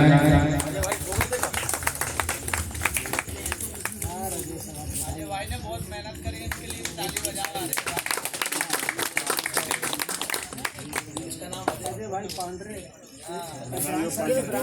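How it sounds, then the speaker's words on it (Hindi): An audience at a large Ramsatta bhajan competition in Maruapura claps loudly in dense, rapid bursts, alongside an announcer speaking through amplification and some background music. "जोरदार ताली बजाएं"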